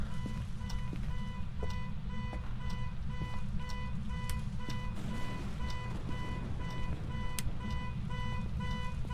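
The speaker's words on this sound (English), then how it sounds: "it did set the car alarm back off" A car alarm in the ghost-hunting video game Phasmophobia blares without pause, a loud, steady run of evenly spaced electronic beeps and pulsing tones repeating over a constant low background hum.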